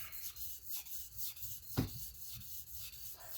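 Rhythmic back-and-forth rubbing of 1500 grit sandpaper, soft and close, repeating in steady strokes with one sharper scrape partway through.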